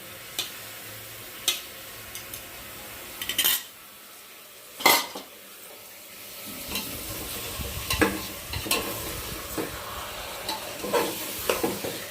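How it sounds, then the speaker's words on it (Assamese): Mutton goes into a pan of frying ginger and garlic, with a soft, steady sizzle under repeated scrapes and clinks of a spoon stirring against the metal; no voices. "এইখিনি ভজা হৈ গৈছে আৰু এতিয়া মাংসখিনি দি দিব।"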